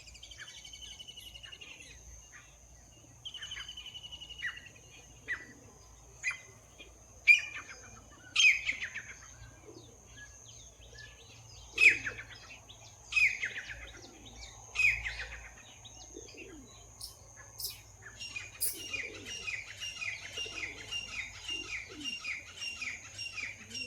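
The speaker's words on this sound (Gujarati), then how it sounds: "ચાલો તમને પણ બતાવું ને પક્ષીનો અવાજ પણ સંભળાવું." Various birds chirp and call outdoors on a morning, with scattered bright tweets and calls at varying distances, some louder bursts and a faster chattering run toward the end, over a low steady hum.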